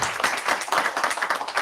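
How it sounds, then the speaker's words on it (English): A conference audience applauds, a dense wash of clapping hands that stays fairly loud and steady throughout. "And let's give it a cheer."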